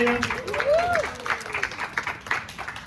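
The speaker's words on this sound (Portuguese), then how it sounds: "Palmas para a porta-estandarte." An audience at a family carnival event claps for the flag-bearer, moderate scattered applause, with a voice calling out briefly at the start.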